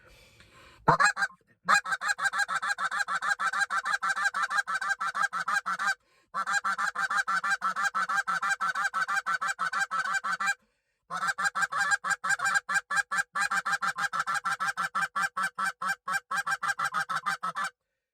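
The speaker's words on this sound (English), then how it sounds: "it's basically just a cluck, just clucks running off of each other" Rapid clucks on a Canada goose call run together in long, dense bursts, loud and close, broken by a few brief pauses between volleys.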